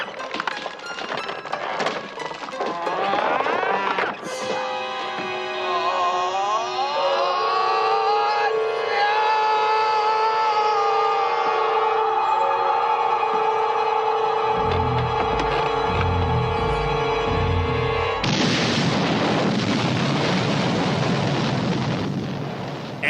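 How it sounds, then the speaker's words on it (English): A slowed-down explosion plays as a long, drawn-out rumble with stretched, wailing tones and deep thudding pulses, loud and continuous, building to a dense burst near the end. "You're going to hear the explosion in slow mo."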